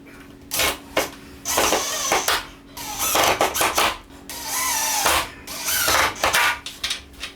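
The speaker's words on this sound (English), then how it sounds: "Using a self-centering drill bit, I pre-drill the screw holes." Power drill with a self-centering bit pre-drilling screw holes while a shop-built out-feed and assembly table goes together, sounding as repeated short bursts of whirring with pauses, fairly loud and close, with no talking.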